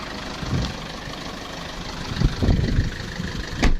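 A 2016 Mitsubishi Triton GLS with a manual gearbox idles with a slight stumble, a moderate steady rumble broken by a few louder thumps and knocks, with no voices.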